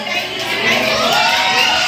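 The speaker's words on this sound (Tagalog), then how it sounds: "Siyang makarinig ng palakpakan na may kasamang hiyawan." Children and adults at a seven-year-old's birthday party cheer and shout loudly, a short, lively burst of crowd noise with excited voices overlapping.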